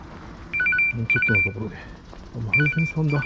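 A telephone rings with bright, repeated electronic trills in several short bursts, heard over steady background noise while someone talks close by.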